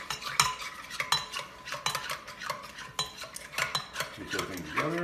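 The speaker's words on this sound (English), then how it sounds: "Mix everything together. Make sure you want to blend it really well." A large spoon stirs keto horseradish cocktail sauce in a bowl, scraping and clinking in a quick, steady rhythm up close, with a short squelching swirl near the end.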